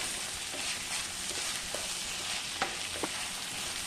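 Tomatoes sauté with ginger and garlic for a chilli butter paneer masala, a soft, steady sizzle close by with a few light clicks of stirring and no speech over it.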